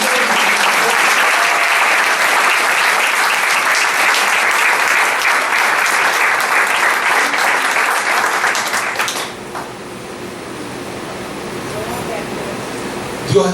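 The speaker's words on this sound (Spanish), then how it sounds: "Un aplauso para Él." A church congregation at a Spanish-language sermon on new birth breaks into loud, sustained applause for about nine seconds, then it cuts off to quieter room tone.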